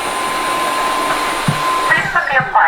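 A vacuum cleaner with a water tank runs with a steady, close whirring hum and a faint high whine, then voices chatter over it near the end.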